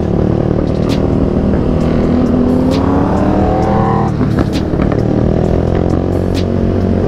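A Suzuki Satria FU motorcycle accelerates hard on a test ride, its engine note climbing steadily and loudly close to the rider, with continuous road and wind roar and no talk over it.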